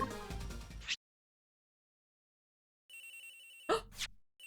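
Telephone ringing in the video game Ace Attorney Investigations: Miles Edgeworth, a repeating electronic ring tone after a short game jingle and a pause, with a couple of bright chime-like sweeps near the end.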